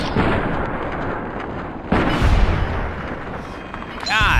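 A gunshot booms in the video game Fallout: New Vegas, a sharp blast that jumps out over a steady bed of game noise and music, near and loud, followed by further rumbling and a rising whine at the end.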